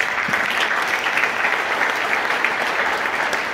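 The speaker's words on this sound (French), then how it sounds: "Et voir comment vous avez applaudi, ça nous encourage." A theatre audience applauds after a film screening, a dense, even wash of clapping from many hands that holds steady and loud throughout without any pause.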